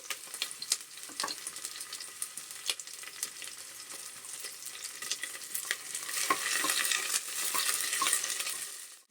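Whole biryani spices frying in oil and ghee inside a steel cooker, a steady close sizzle with scattered crackles and pops that grow denser and louder toward the end.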